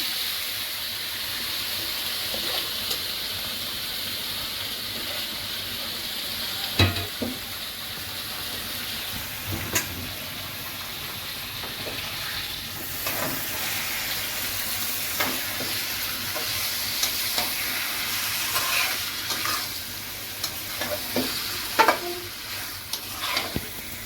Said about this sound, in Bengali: তেলের মধ্যে মাংসটা দিয়ে দিবেন।